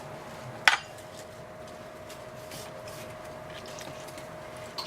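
A knife slices through a head of pak choy on a kitchen board, giving one short, crisp cut near the start, followed by a faint steady hum of the room.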